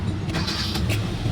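A Hyundai Elantra engine catches and runs after a no-crank, no-start repair, a steady low rumble close by with a brighter burst as it fires, continuous through the short stretch.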